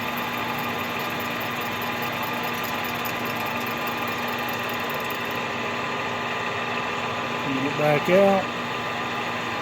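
A Stihl MS 261 chainsaw idles steadily nearby, a constant buzzing drone that runs the whole way through, and someone speaks briefly near the end.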